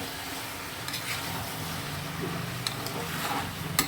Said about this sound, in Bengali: দুটো চেরা কাঁচা লঙ্কা দিয়ে দিচ্ছি, দিয়ে একটুখানি কষিয়ে নেব